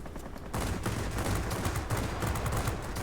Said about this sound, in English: we've got a 37mm cannon that does 37mm cannon type things